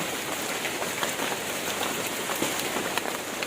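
Steady rain falls and patters on trees in an areca nut plantation, a continuous hiss with scattered heavier drops, with no one talking.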